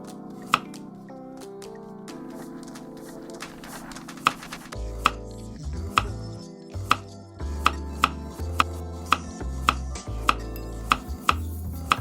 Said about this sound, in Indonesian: Potong kentang menjadi 8 bagian.